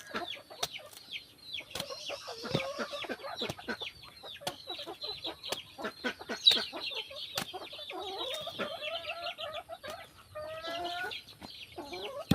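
Chickens in the Philippine countryside cluck and chatter continuously after rain, several birds close by, with busy overlapping calls and occasional sharp sounds throughout.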